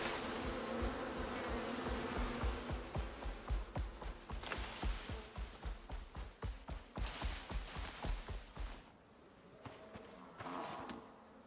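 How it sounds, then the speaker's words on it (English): Bees buzz in the survival game Icarus, a dense insect drone over quick rhythmic footsteps that run for several seconds, then stop, leaving the buzzing fainter at the end. "I thought I heard those bees still following us."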